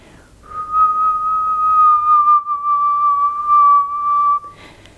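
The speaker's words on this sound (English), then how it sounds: "Whistle from the wind." A single long, steady whistle holding one pitch for about four seconds, clear and fairly loud against a quiet background.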